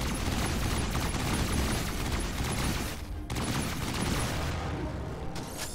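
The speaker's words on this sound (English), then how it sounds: "Not a big fan of this Vulcan cannon either." A Vulcan cannon fires nonstop in a Star Trek video game, a loud, dense roar of rapid shots that briefly cuts out near the middle before resuming.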